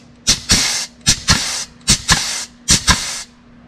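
A pneumatic grease gun pumps grease into a fitting on a Kubota L3301 tractor, giving four pairs of sharp, loud air hisses in a steady rhythm, each burst close and unaccompanied by talk.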